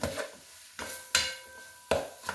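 Hamburger meat browning in a pot for chili being stirred, a few scraping wooden strokes separated by pauses, with soft sizzling underneath.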